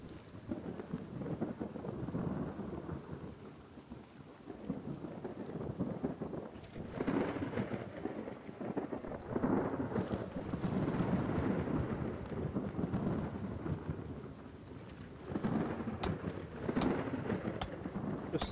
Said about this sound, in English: Storm doesn't want to let up.